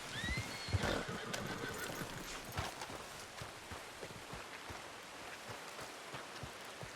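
A horse in the video game Red Dead Redemption 2 lets out a short whinny near the start, followed by scattered clopping and tapping sounds over a soft, steady hiss.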